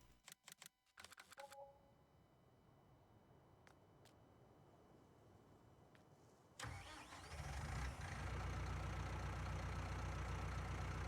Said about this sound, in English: That's definitely a new tractor sound.